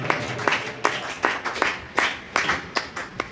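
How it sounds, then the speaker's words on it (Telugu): A church congregation clapping loudly together in Sunday worship, a run of about ten sharp, fairly even claps over a low murmur of voices. "గట్టిగా చప్పట్లు కొట్టి జీవము కలిగిన దేవుని నామాన్ని మహిమపరుద్దాం"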